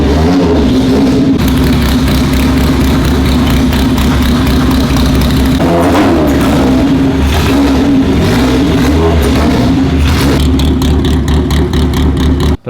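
A 450 whp Honda on a 200 nitrous shot pulls hard in a loud, sustained acceleration, engine droning steadily close to the mic with rising and falling pitch through gear changes for nearly the whole run.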